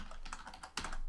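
Rapid keystrokes on a computer keyboard as a username is typed into a Windows IIS FTP user setup, a steady run of close, crisp clicks with a louder burst near the end.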